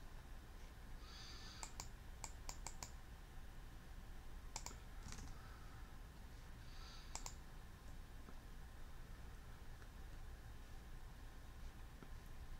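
Faint, sharp mouse clicks sound at a desk computer, a few scattered single and double clicks spread over several seconds against quiet room hiss.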